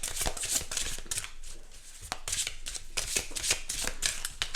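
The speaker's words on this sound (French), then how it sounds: "Donc voilà les 44 cartes de ce bel oracle. Donc alors je vais les mélanger" A new deck of 44 oracle cards being shuffled by hand, a fast run of crisp riffling flaps and soft slaps, close and fairly loud, with brief pauses between bursts.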